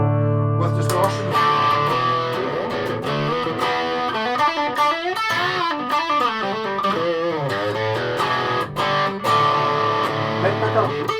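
A Les Paul guitar played through its bridge pickup with distortion rings out in sustained, heavily overdriven chords and bends, loud and continuous with sharp picked attacks.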